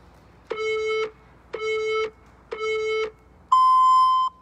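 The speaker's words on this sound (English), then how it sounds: "Beep." A workout interval timer gives three identical half-second beeps at one-second intervals, then a longer, higher-pitched final tone, all loud, clean and electronic, with no speech.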